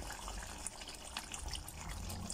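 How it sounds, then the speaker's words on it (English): Cream poured into simmering butter paneer in a pan, a soft steady liquid pour with faint bubbling, close and quiet, with no talking. "So to this, I'm going to be pouring in my cream."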